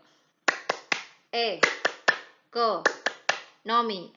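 A class in an Islamic economics lesson performs the 'tepuk ekonomi' clapping chant: crisp, rhythmic groups of claps alternating with short chanted syllables, close and clear against silence.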